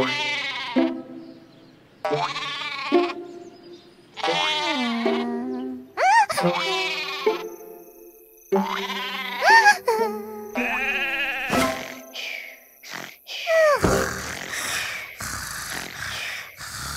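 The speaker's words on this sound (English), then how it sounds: "Sherbert counted 49 sheep and finally fell asleep." Cartoon sheep in the Endless Numbers counting app give a run of bleats, grunts and yelps one after another, loud and close. The cries are spaced steadily in a counting rhythm, with short gaps and no talk.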